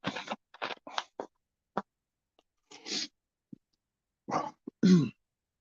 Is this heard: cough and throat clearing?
yes